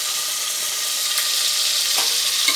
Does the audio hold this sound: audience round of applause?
no